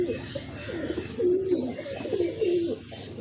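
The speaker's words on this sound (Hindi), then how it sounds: "ये दोस्तों ओरिजिनल फिरोजपुरी कबूतर हैं" Original Ferozpuri pigeons cooing in a loft, several close, soft throaty coos repeated in rhythmic phrases, with faint background noise and no talk.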